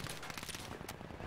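Brief rapid bursts of gunfire from the World War II shooter Battlefield V, a quick fusillade crackling through a short, fairly quiet moment of play with no voice over it.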